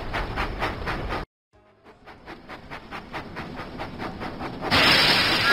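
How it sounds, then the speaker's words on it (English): Cartoon steam engine Thomas puffing along the track in a Thomas & Friends video game: steady rhythmic chuffs with a brief silent gap, then building again into a louder hissing rush near the end. "Thomas puffed proudly into Tidmouth Sheds."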